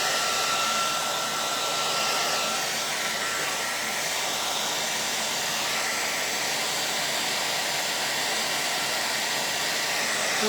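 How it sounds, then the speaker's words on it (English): A cool-setting hair dryer blowing on wet paint on a Gelli printmaking plate, a continuous loud whooshing roar held close throughout without any talking. "Make sure it's a cool dryer."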